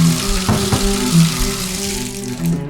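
Cold water gushes steadily from a bathtub tap, a loud close rushing stream with a few clunks and splashes over it.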